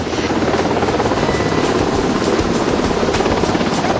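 Military helicopters fly near the warship INS Vikramaditya, making a continuous loud rotor thrum with a throbbing pulse and no pauses.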